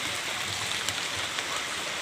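Heavy monsoon rain pours in a waterlogged neighbourhood, a dense, unbroken rushing hiss with no voices.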